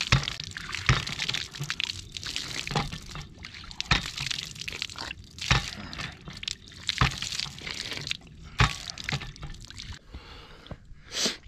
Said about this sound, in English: We have water, folks.